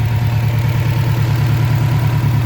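A 2006 Subaru STI engine idles with a suspected turbo problem, giving a steady, loud low rumble with a continuous even throb and no talking over it.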